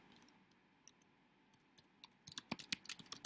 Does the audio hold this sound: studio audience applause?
no